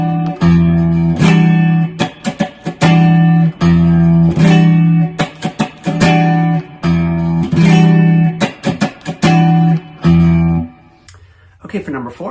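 Guitar strumming a rhythm-study pattern with a laid-back feel, built on repeated chord stabs in a steady, loose groove with short gaps between strokes, played up close and loud with no talk over it.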